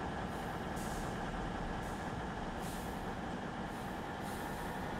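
DB ICE-TD diesel train accelerating on the Hamburg–Lübeck line in Train Simulator, a steady loud engine and rail rumble with a broad hiss that swells in regular pulses, no voices.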